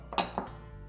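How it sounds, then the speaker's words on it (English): Dishes clink as beer gummy mixture is divided into three bowls, two short bright knocks of glass or metal close by, then a quiet tail. "now I'm going to divide this into 3 bowls"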